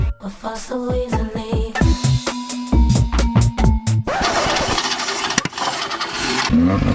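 A car engine cranks in a quick run of rhythmic pulses, then catches and roars into loud, close revving that holds steady to the end, with no talk over it.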